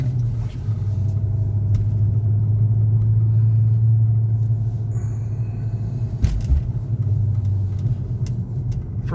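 A 2003 VW Passat W8 4Motion sedan, big and heavy at nearly 4,000 pounds, drives along with a low, steady engine and road rumble inside the cabin, plus a brief clunk partway through.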